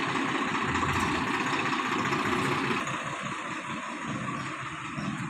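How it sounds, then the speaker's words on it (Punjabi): A tractor engine chugs steadily at idle during paddy harvesting, a low throbbing rumble that eases slightly partway through. "ਟਰੈਕਟਰ ਆ ਟਰੈਕਟਰ ਨੂੰ ਜਾ ਲੈਣ ਦੋ"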